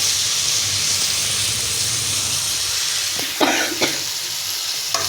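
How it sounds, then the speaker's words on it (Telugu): Half a kilo of tomatoes frying for a curry, a dense steady sizzle and hiss with a few clattering stirs near the end, close and continuous without speech. "ఇలా ఫ్రై అయ్యాక టమాటా వేసుకోండి. 1/2 kg టమాటా వేస్తున్నాను. మంచిగా మిక్స్ అయ్యేలాగా మిక్స్ చేయండి."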